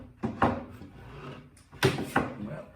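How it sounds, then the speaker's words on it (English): Wooden printer drawer sliding into a table, two firm rubbing slides with a soft knock at each, close and clear with no talking. "This is the printer drawer. So this is the drawer that will slide in here,"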